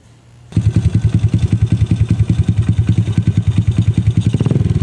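A smoking, worn motorcycle engine starts abruptly and settles into a loud, steady, rapid-pulsing idle, then quickens with a short rev at the end.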